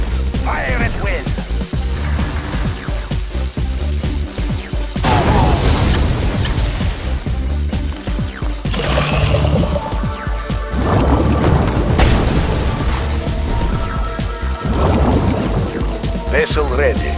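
Ships firing cannons in the video game Mental Omega, a series of loud booming shots and crashes in clustered volleys, heard alongside unit voice responses.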